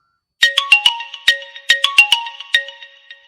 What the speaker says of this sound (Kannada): ಅವರ ಫೋನ್ ಹಚ್ಚಿರೋಡು.